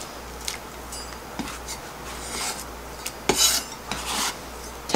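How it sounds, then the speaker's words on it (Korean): A knife thinly slices a quarter of an onion on a board, giving a series of irregular soft rasping cuts and taps at close range, with no talking. "양파가 거의 투명할 정도로 얇게 썰어 주시면 좋아요"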